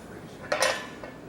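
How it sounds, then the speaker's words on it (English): Light hammer blows on a steel bar held in a vise at a blacksmithing conference: a brief cluster of two or three bright metallic strikes close by, followed by a faint ring, with no talk. "I really like to use a light hammer for that sort of work in the vise."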